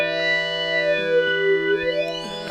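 A Nord Micro Modular synthesizer patch plays sustained, drifting layered tones drenched in heavy reverb, loud and continuous with a faint tick near the end.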